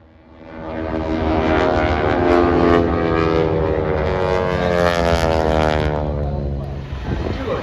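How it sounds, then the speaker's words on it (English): A loud, steady T-6 Texan propeller engine drone builds quickly and holds during aerobatics, with a gradually shifting pitch as the plane passes, then fades slightly at the end. "Now we have the Aeroshell T6 Texan team doing some beautiful aerobatics"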